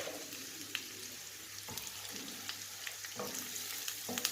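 Garlic frying in a pan with cumin seeds and whole dried red chillies gives a faint steady sizzle, broken by occasional clinks and scrapes of stirring, with no talk.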